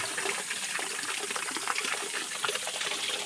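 Water pouring from a stone cow-mouth spout at a Mahadev shrine, a steady soft splashing trickle heard close and alone.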